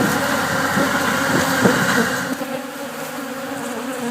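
A loud, dense swarm of honeybees at a pollination site in Florida drones steadily and close, a continuous buzzing that fills the air without pause.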